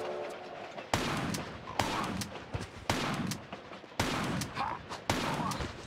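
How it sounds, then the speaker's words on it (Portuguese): Enemy gunfire aimed at Lara in Tomb Raider 4, a series of sharp shots at roughly one-second intervals, loud and close, over game ambience with no talking. "Ele vai sacar a arma e vai começar a acertar a Lara aí."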